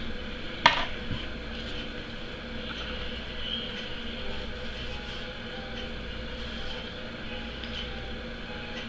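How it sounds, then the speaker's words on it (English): A tool stirs an acrylic mixture in a container, making a steady soft scraping and swishing that runs the whole time, with one sharp knock near the start. "you're just going to take your something and stir it up"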